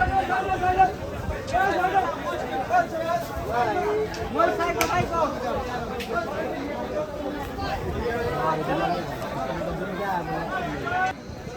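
Busy outdoor crowd at a cattle market in Hazratpur, many voices talking over one another in a constant babble, a few nearer voices standing out from the general hubbub.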